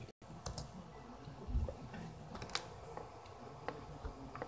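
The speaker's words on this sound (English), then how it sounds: "you can now see what I'm typing" Computer keyboard typing during a Murder Mystery 2 game session, with scattered key clicks and taps at a moderate distance over a faint background hum, no talking.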